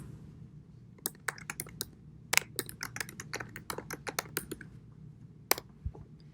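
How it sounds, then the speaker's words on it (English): Keys on a computer keyboard are tapped in an irregular run of crisp clicks with short pauses, close by and alone over a low steady hum. "Use the text box to type in your response."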